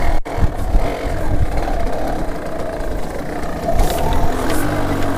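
A Yamaha DTR 125 trial motorcycle engine revs in short, uneven bursts over a rough idle, heard close up with a brief knock near the start.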